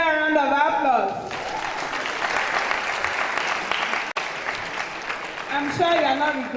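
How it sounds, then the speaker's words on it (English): An audience at a university event breaks into sustained, loud applause that fills several seconds, with a voice talking over the clapping at the start and end. "Another round of applause."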